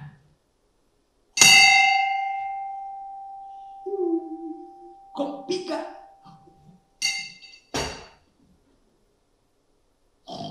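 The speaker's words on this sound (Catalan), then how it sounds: "Faig sonar la campaneta" A small bell rings once with a long sustained tone in a Christmas puppet-theatre tale, followed by brief clinks and voices talking over its fading ring.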